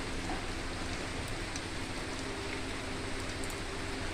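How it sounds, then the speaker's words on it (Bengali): Steady, dense rainfall hisses continuously, with scattered drops pattering on a surface close by and no voices. "সমানে বৃষ্টি পড়ে যাচ্ছে।"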